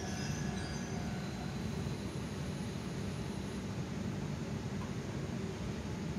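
A train pulls into platform 7 at Iwamizawa Station on the JR Hakodate Line at night, a steady low rumble of wheels on rails with faint squeals, continuous and fairly distant throughout.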